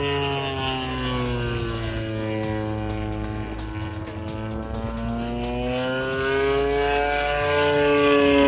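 The engine of a kit-built Extra 300X model airplane runs loud and close, a steady buzzing drone whose pitch slowly drifts up and down before rising toward the end.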